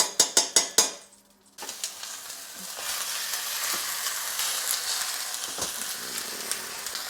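Beef tallow drops into a hot pan after several sharp metallic knocks, then sizzles loudly and steadily with crackling pops close by, continuing without any talking.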